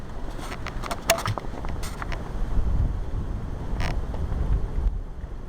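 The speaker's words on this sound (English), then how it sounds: "Pretty strong wind out." Strong outdoor wind buffets the microphone, a rough, continuous low rumble rising and falling in gusts, with a few faint clicks and rustles near the start.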